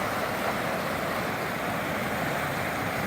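Flooded stream swollen by a sudden melt of about 25 inches of snow, rushing water making a dense, steady roar with no pauses and no voices.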